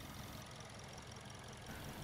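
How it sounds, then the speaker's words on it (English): A 2007 Toyota Corolla Allion NZ260 engine idles roughly under load from a faulty alternator, giving a steady low, uneven rumble with a faint knock, heard close and alone. "it has a very abnormal vibration, and definitely it has a rough idling as the customer complained"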